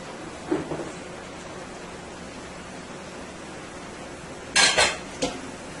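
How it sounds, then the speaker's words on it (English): Potatoes tumble into a one-pot Caribbean stew of eggplant and chicken, making a soft clatter early on and then a louder double clunk of pieces hitting the pot near the end, with a quiet room between. "I am going to go ahead and add my potatoes."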